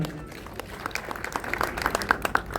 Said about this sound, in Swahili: Asante, pigieni makofi